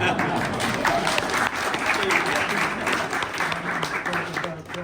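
Pub audience at a political talk breaks into steady applause after a speaker introduction, dense clapping that stays even and moderately loud, then begins to thin toward the end.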